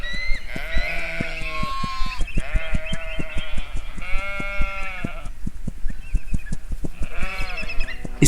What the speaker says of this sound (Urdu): بھیڑوں نے شور مچانا